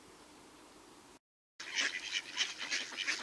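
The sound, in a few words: ducks quacking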